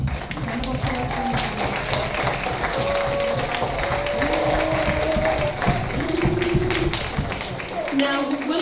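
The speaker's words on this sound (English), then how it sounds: "please come up and a big round of applause for" Audience applause and tapping at a school awards ceremony, a steady broad wash of clapping running throughout, with a voice speaking over it.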